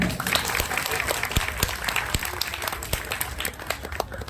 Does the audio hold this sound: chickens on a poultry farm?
no